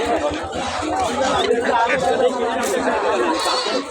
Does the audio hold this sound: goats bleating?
yes